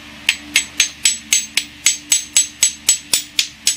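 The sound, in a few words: tapping a rubber-handled knife blade to hear its ring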